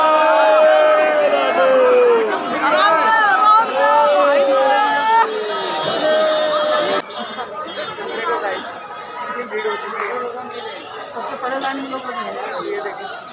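Crowd gathered outside the closed Raman Reti temple, a dense babble of many overlapping voices and chatter up close, with occasional laughter.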